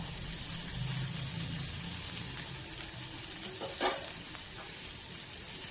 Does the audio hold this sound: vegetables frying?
yes